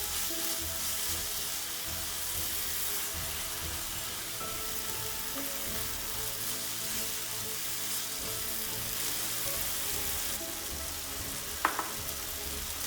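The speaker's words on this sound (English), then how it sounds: "we are going to let the onion and tomatoes cook with the spices for a couple of minutes" Chopped onions and tomatoes fry with spices in a pan for a spinach and tofu curry, giving a steady, dense close-up sizzle throughout and one brief sharp clink near the end.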